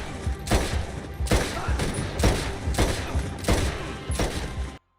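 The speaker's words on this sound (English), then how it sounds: "Every shot with the Mauser is really good," Mauser pistol shots in Red Dead Redemption 2 ring out in a steady series of about six loud, sharp reports, evenly spaced with short echoing tails, then cut off abruptly.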